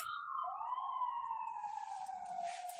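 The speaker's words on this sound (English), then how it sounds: "It's an ambulance and it's outside." An ambulance siren wails outside as it passes, a loud continuous rising and falling tone that glides steadily downward in pitch with no voices.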